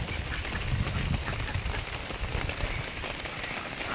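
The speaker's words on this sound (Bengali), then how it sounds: "টুপ টুপ টুপ টুপ করে বৃষ্টি পড়ছে দেখুন" Rain patters steadily onto a pond outside a village home, a continuous close hiss of drops with soft low thumps and no talk.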